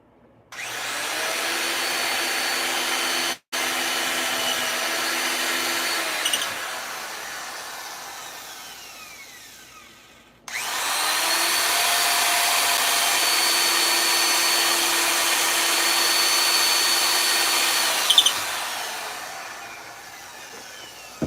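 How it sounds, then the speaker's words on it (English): A power drill bores holes in dense hickory wood in two long, steady whining bursts with a brief pause between them, loud and close, with no talk. "I drill up these holes."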